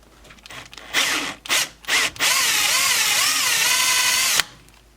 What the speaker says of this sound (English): I ended up using the Dremel with a grinding wheel